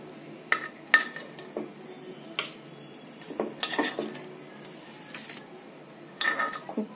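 Cooked aape lifted out of a nonstick aape pan with a utensil, a series of light metallic clinks and scrapes spaced irregularly, close and fairly quiet.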